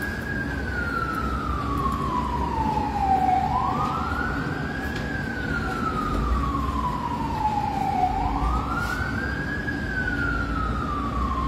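A fire truck siren at a fire in Dahlia, Fairview wails, rising and falling in long slow sweeps over the steady rumble of traffic, fairly close and loud.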